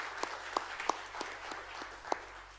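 Faint, sparse clapping from a small audience at a school board meeting, honoring the police department, with scattered distinct claps over a quiet room.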